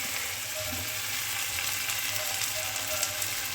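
Onions fry in hot oil in a pan, giving a steady, close, even sizzle with faint stirring clicks throughout and no talking.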